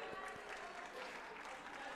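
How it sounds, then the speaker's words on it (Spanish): A church congregation applauds, a dense steady wash of clapping hands filling the whole stretch, fairly loud and close. "Palmas para Juani, hermanos."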